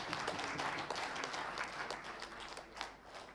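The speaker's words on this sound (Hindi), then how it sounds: "इसलिए आप सब अपने अपने लिए एक बार जोरदार तालियां बजा दीजिए।" A seminar audience in a hotel function room claps together: a dense, fairly steady roll of applause with a few sharper claps near the end, heard with no speech.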